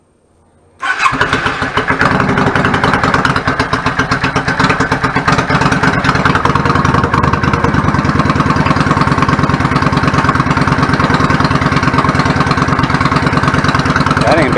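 A 1999 Yamaha V-Star 650 Classic motorcycle with a clogged pilot jet fires up after a short quiet moment and settles into a loud, steady, throbbing idle that continues evenly throughout, recorded close up.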